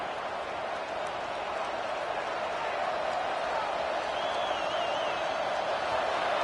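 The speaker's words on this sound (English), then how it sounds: "It's early, but this crowd is fired up. Listen to this noise here." Stadium crowd noise from the College Football 26 video game during a Florida vs Alabama matchup, a dense, steady roar with no breaks throughout, under a commentator's voice.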